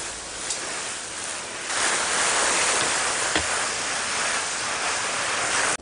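Water from a hose pours steadily onto a raised garden bed, a continuous broad hiss that swells louder after the first couple of seconds and runs alone until it cuts off.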